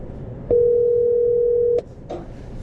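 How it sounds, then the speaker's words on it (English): Telephone dial tone from a phone line as a call is placed, a steady continuous tone of just over a second, loud and clear over low background murmur, followed by a short click. "Let's call Pat."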